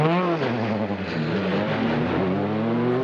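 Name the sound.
Peugeot 306 Maxi car driving fast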